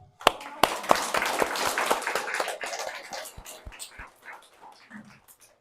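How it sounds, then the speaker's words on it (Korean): An audience at a Catholic youth gathering claps, a burst of sharp hand claps near the start that thins into scattered, fading claps over several seconds. "박수."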